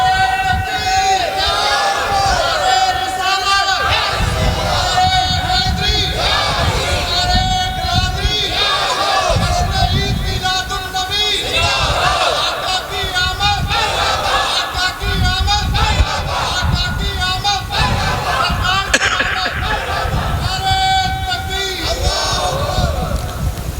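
A crowd at a religious gathering chants slogans in loud, rhythmic call-and-response waves, with a leading voice calling out and many voices answering.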